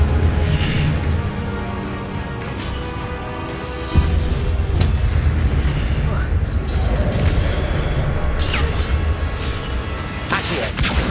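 Spellcasting in Hogwarts Legacy, with an Incendio fire spell bursting into a dense, rumbling roar, a sharp booming hit near the middle and crackling blasts later, loud and continuous beneath a voice shouting spell names.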